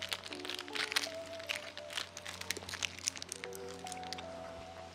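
Someone chewing a YoPRO Perform protein bar close to the mic, with soft wet squishing and crunching bites in an irregular rhythm over a low steady hum.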